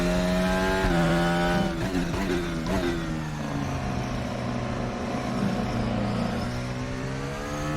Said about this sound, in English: Sounds pretty good, this car, I think.